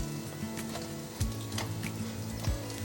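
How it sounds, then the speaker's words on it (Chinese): Potato and yam slices pan-frying in oil until golden for a vegan dish, with a steady close sizzle and a few soft clinks from turning the pieces. "再继续让它煎，来翻面，让它来回煎，煎出两面金黄色"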